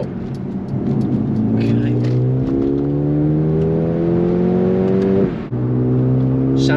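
A Mercedes-Benz A35 AMG switched to sport mode drops a gear and accelerates, the engine note climbing steadily and loudly from inside the cabin, followed by a sharp shift blip; a voice speaks briefly at the start.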